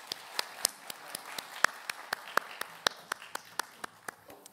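Scattered hand claps from a church congregation at a discipleship training graduation service, a sparse, uneven run of individual claps at moderate distance with no talk over them.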